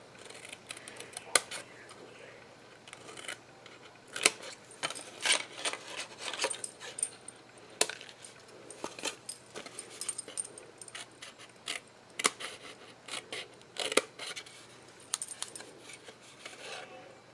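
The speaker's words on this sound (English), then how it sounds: "Cut those little tabs out." Scissors snipping out small paper tabs for an adhesive caddy craft, giving a close, busy run of crisp cuts, rustles and paper handling with no talking.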